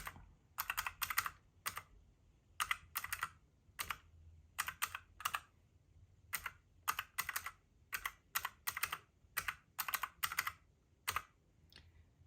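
Someone types on a computer keyboard nearby, with quick clusters of crisp clicking keystrokes separated by brief pauses, loud and clear against a quiet room and with no talking.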